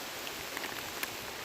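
Rain falls on a camera lens outdoors, a soft, dense hiss of drops with a few faint taps, close but quiet, with no voices.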